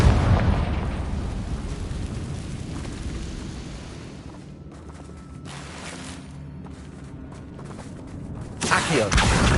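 A Confringo fire spell bursts in the Hogwarts Legacy video game, a loud booming blast that rumbles and fades over several seconds before a second burst near the end.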